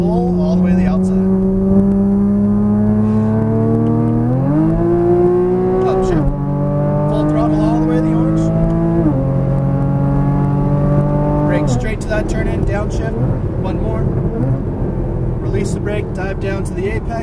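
A Porsche Cayman GTS engine winds up at full throttle on a racetrack, its pitch climbing in long sweeps with sharp drops at each upshift, loud and close, then turning rougher near the end as a voice speaks over it.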